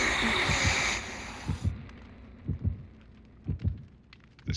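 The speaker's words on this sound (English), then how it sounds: "Whoa, that heartbeat is creepy!" Slow, heavy heartbeat sound effect from the horror game Dead by Daylight, paired low thumps repeating about once a second, beginning under a brief burst of ambient game noise and then standing fairly alone.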